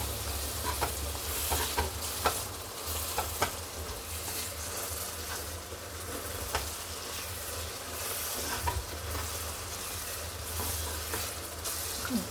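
Coarsely ground garlic fries in a pan for gongura chutney, producing a steady low sizzle with faint stirring scrapes and occasional soft clicks, moderately quiet and without speech.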